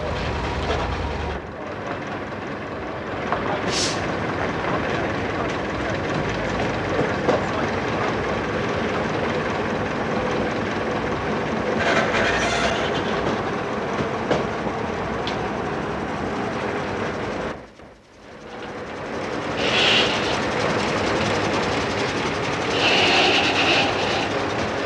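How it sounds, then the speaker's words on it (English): Bulleid Merchant Navy class steam locomotive Portline running on a heritage railway, a loud continuous rumble of wheels and rolling stock passing close, with a brief drop in the noise midway before it resumes. "Portline, one of Mr. Bulleid's Merchant Navy class engines"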